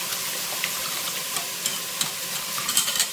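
Softening celery and mushroom sizzle in a frying pan while being stirred, a steady close hiss broken by soft scraping and clicking of the utensil, no talk.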